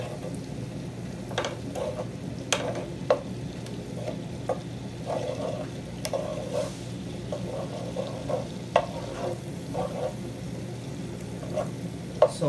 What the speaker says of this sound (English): once the butter is melted, we can add the corn.